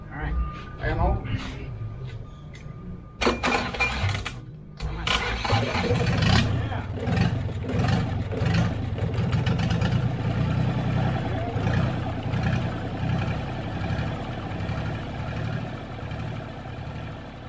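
A salvaged Yanmar marine diesel engine, recovered from a sunk boat, cranks repeatedly and tries to start. Several loud starter bursts are followed by a sustained rough, chugging run, and people talk over it.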